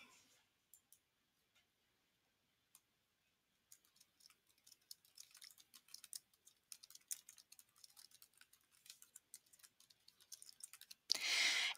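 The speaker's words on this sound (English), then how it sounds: "I'm going to type in my title." Book title being typed on a computer keyboard: sparse faint clicks at first, then a quick run of crisp, close keystrokes, ending in a louder burst of noise.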